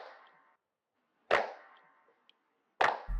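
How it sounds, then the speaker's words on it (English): Layered hand-clap samples, pitch-shifted and muffled with EQ, hit twice in sharp bursts over a faint, smeared tail, fairly quiet, with no voice. "we recorded just a bunch of claps layered on top of each other"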